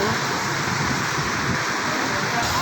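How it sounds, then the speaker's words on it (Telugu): Heavy rain pours down steadily during a drive through traffic, a dense, constant broadband roar with no breaks. "ఫుల్ వర్షం"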